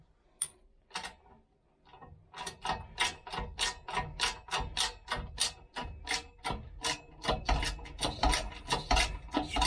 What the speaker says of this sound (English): Just pushing the bolt through.